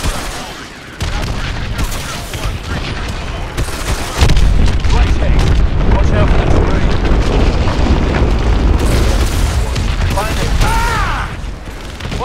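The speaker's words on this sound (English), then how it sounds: "Lock onto those hard points and hit them with your missiles." Missile explosions and heavy gunfire boom loudly in Call of Duty: Advanced Warfare during an aerial attack on a hydroelectric dam, one dense, continuous roar of blasts and mechanical rumble.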